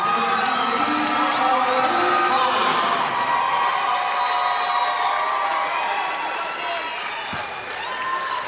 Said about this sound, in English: the crowd is chanting MVP